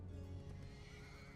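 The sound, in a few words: horse neighing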